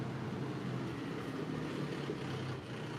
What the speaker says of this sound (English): Oh man, he's got the tractor. He's got to repair the road today.